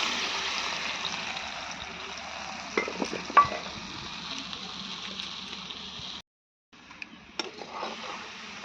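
A paste of ground mustard seed, poppy seed, green chilli and turmeric sizzles steadily in hot oil, with a few louder spatters and stirring clinks, a brief silent break, then the sizzle resumes more quietly.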